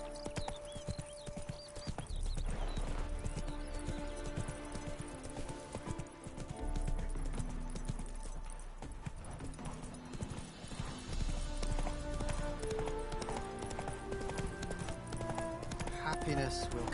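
Horse hooves clip-clop in a steady galloping rhythm in the video game The Witcher 3, close and continuous, with an occasional whinny, layered over music.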